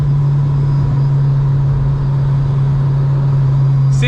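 A 350 hp supercharged Honda Civic Si cruises with a loud, steady engine drone and a strong sustained low hum, heard from inside the car with no gear changes or revving.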